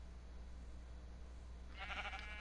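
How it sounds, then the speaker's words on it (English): Sheep bleating in the Minecraft video game, a short burst of bright, buzzy bleat rising near the end over a steady low background hum, with no talking. "I hear the sheep"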